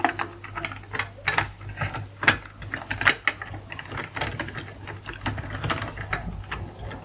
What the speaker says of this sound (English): Get that one screwed down a little bit as well.